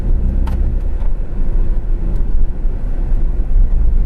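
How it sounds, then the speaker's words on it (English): A Tata Tiago facelift petrol automatic engine revs steadily in sports mode up to 4000 RPM, a loud, continuous low rumble that holds throughout. "in sports mode it revs all the way till 4000 RPM"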